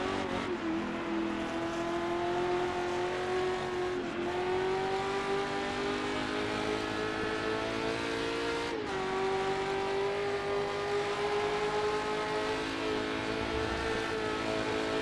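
A historic sportscar races at Riverside in the Assetto Corsa sim, its engine droning steadily and loud throughout, pitch dipping briefly at shifts around four and nine seconds, with no voices.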